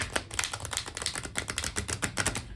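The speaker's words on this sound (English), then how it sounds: "I'm just going to shuffle one more time" A deck of oracle cards, large for small hands, being shuffled in rapid, steady riffling bursts, close and fairly quiet, with no voices.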